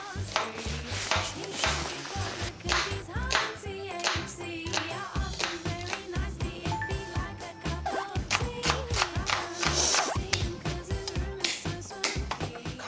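Rapid knife chopping on a cutting board during a Korean cooking show, steady rhythmic taps up close, with background music and occasional talk mixed in.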